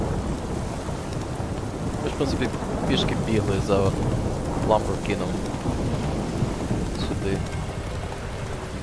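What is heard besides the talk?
thunderstorm with rain and thunder in the video game The Witcher 3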